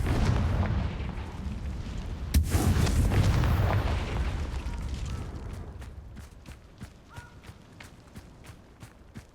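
Confringo spell explosion in Hogwarts Legacy: a sudden heavy blast with a rumbling roar that fades, followed by a string of light rhythmic footstep-like taps.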